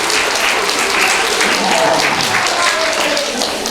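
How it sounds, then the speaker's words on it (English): Loud, dense applause from a crowd, sustained and even throughout without pause. "Give yourselves a round of applause."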